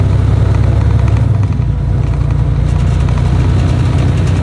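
A 2011 Freightliner Cascadia truck with a 13-speed transmission running while driving: a loud, steady low diesel drone from the cab, with a brief dip in tone partway through and no talking.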